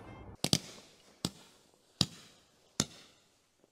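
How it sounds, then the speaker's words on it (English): Fireworks for Lunar New Year pop in a series of five sharp, close bangs spaced roughly evenly about a second apart, with quiet gaps between them. "Hey, you got any firework tonight?"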